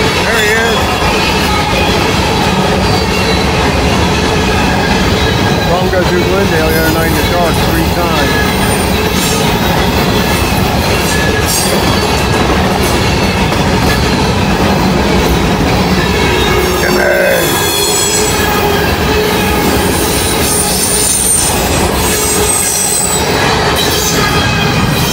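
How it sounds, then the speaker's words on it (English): A long grain train rolls past on the rails in Kentucky at the end of the day, a loud continuous rumble with wheel squeal and clatter throughout, staying close and steady with no pause. "I knew with all these grain trains, sooner or later he'd have to show up."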